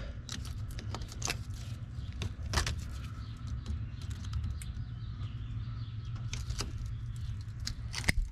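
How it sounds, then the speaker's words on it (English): Small cutters snip through plastic zip ties holding vent tubes onto the fuel filler neck of a 2002 Ford Explorer 4.6L V8, giving several sharp clicks and rattles over a steady low hum, with no talking. "there are a couple of zip ties holding these vent tubes onto the main filler tube. Just going to give those a snip."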